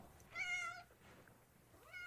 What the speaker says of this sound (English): A cat meowing?